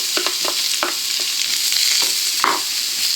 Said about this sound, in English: And I'm going to fry these until they lightly colour.